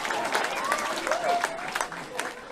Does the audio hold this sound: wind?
no